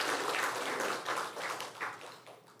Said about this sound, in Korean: 우리 한번 박수로 한번 맞이하도록 할까요?